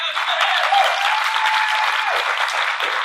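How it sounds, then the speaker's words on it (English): Loud, sustained applause from a conference audience at an open-source technology event, dense clapping filling the room steadily for the whole stretch with no talk over it. "We start with the riotous thunderous applause."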